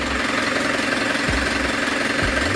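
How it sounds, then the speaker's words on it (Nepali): A Tata Sumo jeep with a rebuilt engine idles at close range, a steady, rough mechanical chug with two deeper thumps partway through. "इन्जिन चलिरहेको छ होइन, दुई महिना पछाडि मेरो गाडी चल्दैछ"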